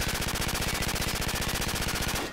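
A P90 submachine gun in Call of Duty fires one loud, continuous, rapid automatic burst, close and dense, ending abruptly.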